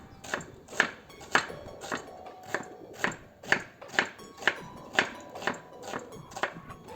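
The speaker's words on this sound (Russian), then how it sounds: "Далее я нарезаю лук толщиной примерно 4-5 миллиметров." Knife cutting onion into slices about 4-5 millimetres thick for plov, about fourteen crisp evenly spaced chops on a board, close and clear with no talk.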